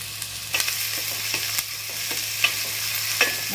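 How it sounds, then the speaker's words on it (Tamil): Chopped onions frying in hot oil in a pan for egg biryani, a steady close sizzle broken by several soft scrapes and knocks of a spoon stirring them, with no voices. "இப்போ வெங்காயம் போட்டுக்கிறோம். வெங்காயத்தை பொடி பண்ணி வச்சுருக்கேன்"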